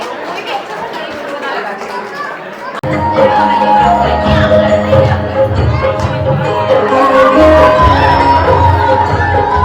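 A crowd at a sangeet wedding celebration bursts into loud, sustained cheering and clapping for dancer Kayra, stepping up to a dense, roaring wall of noise about three seconds in after a quieter murmuring start.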